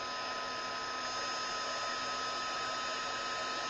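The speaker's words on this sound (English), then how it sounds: "Now I'm going to use my heat tool." An embossing heat tool blows hot air to heat set ink for card making, a steady close whirring hiss that runs unbroken and alone.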